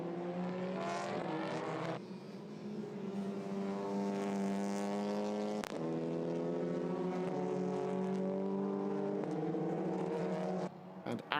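TCR touring race cars scream through the bends and chicane at Barcelona, engines whining with rising and falling harmonic pitch as gears shift, loud and sustained with a sharp gearshift crack midway.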